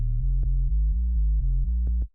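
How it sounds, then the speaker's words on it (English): Synthesized square-wave bass line for a tech house track: buzzy, sustained low notes that step between pitches in a steady pattern, with a few short clicks. The bass is loud and alone. "if we go back to the square wave"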